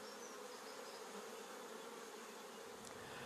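Honeybees buzz at a beehive fitted with a pollen trap, a dense steady hum close by and fairly soft, with no voices.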